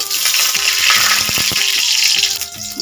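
Black cumin seeds dropped into hot oil in a pan, a close, bright, continuous sizzle with a few soft clinks and scrapes beneath, no voices.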